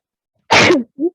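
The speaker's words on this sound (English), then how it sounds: "Sneeze." A single close, loud sneeze, a sharp burst followed by a brief voiced tail, during a beginner yoga session.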